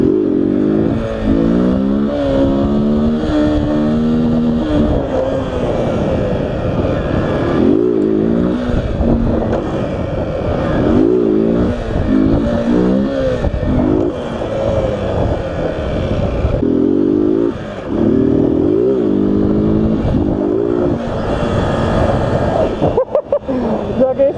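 A motorcycle doing a wheelie revs its engine hard in a rising and falling, gear-shifting growl, close and loud for the whole stretch, with someone talking over it at times.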